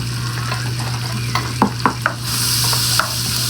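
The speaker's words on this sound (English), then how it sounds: "So I'm also going to put a little bit of garlic in there." Onions and minced garlic frying in a pan, a steady bright sizzle with a few scraping stirs midway, the hiss swelling louder toward the end; no talking.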